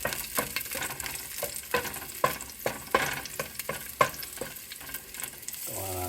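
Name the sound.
garlic frying in a pan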